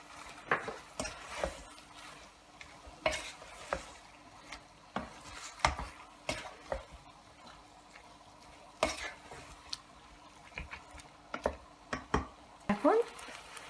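Beef stirred in a pan over high heat gives repeated scraping and clattering stir strokes over a faint, steady sizzle, heard close and fairly quiet.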